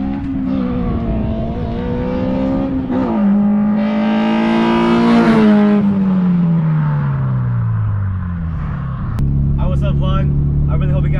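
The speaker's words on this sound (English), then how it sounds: "I really hope you guys enjoyed that little flyby we did." A modified car roars past on a road flyby, its exhaust note climbing as it approaches, then falling in pitch as it passes and recedes, loud and close, before a second revving burst at the end.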